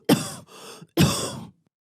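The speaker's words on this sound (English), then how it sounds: "out comes that persistent dry cough" Two dry, hacking coughs in close succession, each a short harsh burst with a breathy tail, close and clear with silence after.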